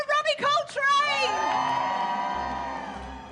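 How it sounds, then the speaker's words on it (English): A crowd at a theme park ride opening cheers and whoops loudly, high shouts and excited voices swelling then fading, with no distinct clapping rhythm. "Ladies and gentlemen, one more round of applause for Robbie"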